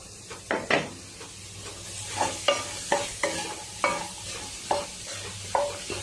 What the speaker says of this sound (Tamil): இதை இப்போ நான் சாப் பண்ண கேரட்டா இப்போ கொட்ட போறேன் நான்.